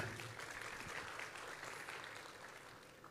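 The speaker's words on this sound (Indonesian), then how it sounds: "Tepuk tangan buat Tuhan kita." A church congregation claps steadily during a sermon, a dense, even wash of applause that fades slightly toward the end.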